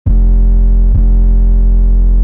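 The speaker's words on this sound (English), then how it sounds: "added this 808, threw some distortion on so you can hear it better on phone and laptop speakers" A heavily distorted 808 bass in a sampled hip hop beat booms loud and sustained, with a hard retrigger near the one-second mark, gritty overtones stacked above the deep low end, and no voice.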